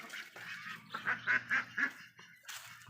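Several young Thai ducks quack close by in a short burst of four or five calls, with a few softer calls before and after.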